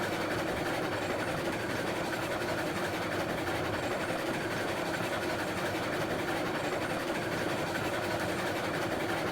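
A game locomotive in RailRoads Online hauls a heavy train uphill toward an iron mine, producing a steady dense engine rumble with faint rhythmic rail clatter throughout, and no talking.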